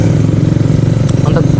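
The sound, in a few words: Kawasaki Ninja RR 2016 motorcycle engine while riding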